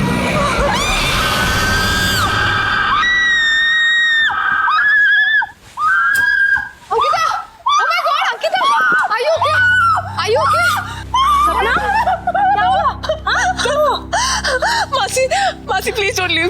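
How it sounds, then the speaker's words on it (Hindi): A woman screams in fear, with high wailing cries, gasps and whimpers against a dramatic horror-series scene, building into repeated frantic shrieks over a low music bed. "क्यों चिल्लाई तुम?"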